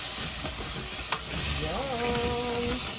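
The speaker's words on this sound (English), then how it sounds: "We'll put them a little at a time, mix them up." Crushed tomatoes are stirred into a sizzling pot of chili with sweet potato, giving a steady frying hiss with a spoon scrape and a brief tonal squeak partway through.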